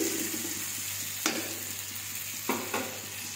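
Tomato and spices fry in a pan for pork curry, giving a constant sizzle, while a spoon stirs and scrapes them in a few sharp strokes.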